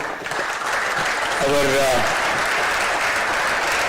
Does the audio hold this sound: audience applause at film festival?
yes